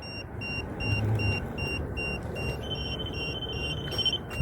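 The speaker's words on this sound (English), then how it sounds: "you guys hear the REM pod just went off?" A REM pod ghost-hunting device sounds its electronic alarm at a night investigation in a park, a steady high beeping tone over a low rumbling background, with no talking.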